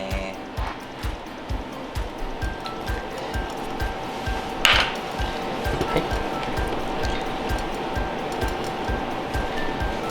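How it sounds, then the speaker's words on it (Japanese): Coated karaage chicken pieces fry in oil at about 160°C, a steady dense crackle and sizzle holding throughout, with a brief brighter burst midway and faint low thumps underneath. "先ほど衣をつけた唐揚げですね、揚げていきたいと思います。"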